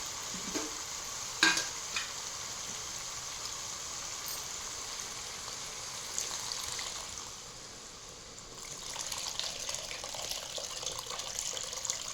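Tamarind extract poured into a hot pan of sautéed tomatoes for egg drop gravy, giving a steady frying hiss with a brief splash early on and the sizzle dipping then swelling back.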